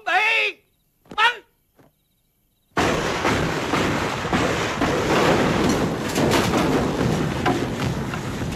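Artillery opens fire in a war film about the Fall of Saigon. Brief shouted commands give way to a sustained, loud, roaring barrage that fills the rest of the scene.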